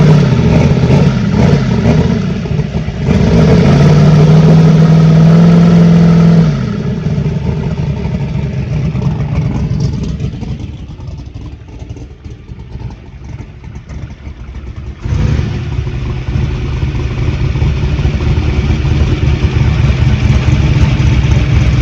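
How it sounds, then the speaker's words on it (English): The turbocharged engine of a Saturn car roars close and loud during a burnout test, holding steady at high revs, easing off in the middle and then building again. "So we're going to do a burnout, and hopefully it does a burnout"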